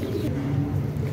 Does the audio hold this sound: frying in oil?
no